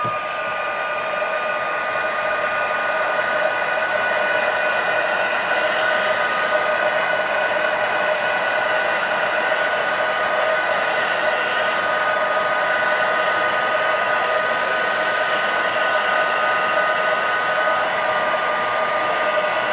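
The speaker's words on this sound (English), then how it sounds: "Now I'm going to turn the heat gun on." A heat gun running for heat embossing: a steady, loud, continuous blowing whine with a constant motor hum, unbroken for the whole stretch and with no talking.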